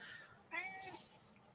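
A cat indoors gives a single short meow, clear but not loud, over a faint background hum.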